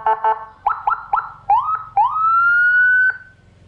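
A Whelen Euro 60-watt motorcycle siren module yelps in short bursts, then sweeps into a rising wail that holds before cutting off, loud and close, on full mode.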